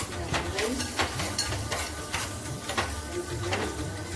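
Capsicum fries in butter with a constant close sizzle, broken by regular scraping strokes of a spoon stirring the pan.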